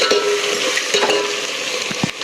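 Whole spices like coriander seeds, cinnamon and cloves dry-roasting in a pan for village-style country chicken curry, a steady close sizzle with scraping stirs and occasional clinks of a utensil against the pan.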